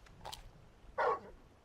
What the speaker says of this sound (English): You're just a big puppy